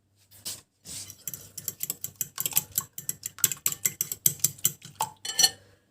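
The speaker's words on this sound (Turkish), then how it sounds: "Şöyle biraz kısa bir süre çırpacağım." Two eggs are whisked briefly in a bowl, a quick run of sharp clicking taps as the whisk strikes the sides, rhythmic and close for several seconds.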